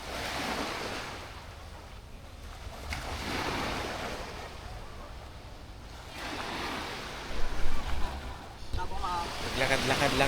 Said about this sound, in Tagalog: Kalmado ang dagat.